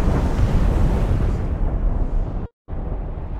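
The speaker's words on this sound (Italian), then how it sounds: "Spari di cannone, nascosti dalla nebbia." A dense, continuous rumbling roar of booming cannon fire in Assassin's Creed Rogue fills the scene, briefly cutting to silence before resuming.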